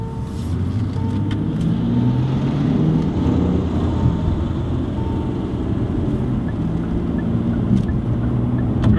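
A Hyundai Genesis car cruising at about 40 mph gives a steady low road and engine rumble with constant tyre noise, close and even, with no talking.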